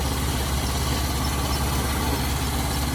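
A rice transplanter's engine runs steadily at close range, a loud, even mechanical drone with a low pulsing rumble that continues unchanged for three seconds, with no voices over it.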